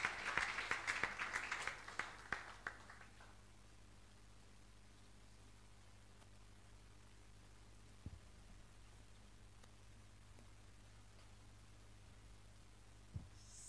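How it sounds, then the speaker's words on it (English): Brief applause from a church congregation at a Sunday service for a couple of seconds, then it fades into a quiet room hum with only occasional faint thumps. "Let's clap for Jesus as she comes forward."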